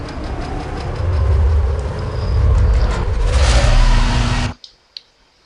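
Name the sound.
car drifting in Need for Speed Most Wanted video game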